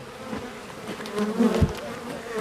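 Honey bees swarm around hive frames during a second honey harvest, their dense, steady buzzing filling the air close by with no voices over it.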